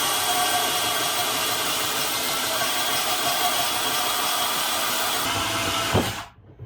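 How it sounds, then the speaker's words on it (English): A small bandsaw cutting a part for a Tao Tao 110 mini quad: a steady, loud, even whine running for about six seconds, then cutting off abruptly. "Well, it's cutting. It's a smaller bandsaw, so it doesn't have a whole lot of range."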